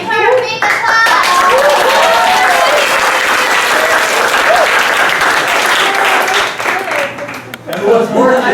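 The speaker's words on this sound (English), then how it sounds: "Give her a big applause" A workshop audience at a leadership camp bursts into loud, sustained clapping and cheering, with children's voices and chatter mixed in before it tapers off near the end.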